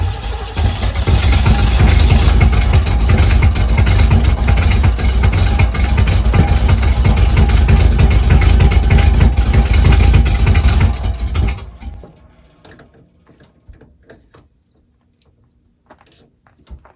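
A 1980 Pontiac Grand Le Mans G-body engine runs at wide open throttle with a loud, rough, steady roar that cuts off abruptly, then dies down to quiet with a few faint clicks and crickets.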